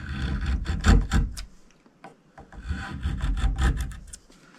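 A chisel is rubbed back and forth on a stone with wet sandpaper in quick rhythmic gritty strokes, loud and close, in two bursts separated by a short pause.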